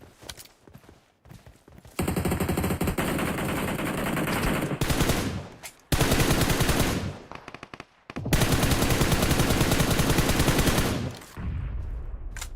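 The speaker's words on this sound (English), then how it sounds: "Shooting at us." Rapid automatic gunfire in the battle-royale video game PUBG Mobile, heard as long dense bursts of shots separated by short pauses, loud and close, with no clear speech.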